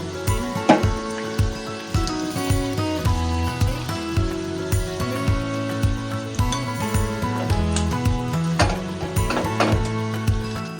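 Curry leaves sizzle in hot oil with the flame turned off, a steady frying crackle under repeated metallic clinks and stirring taps of a utensil against the pan, close and moderately loud.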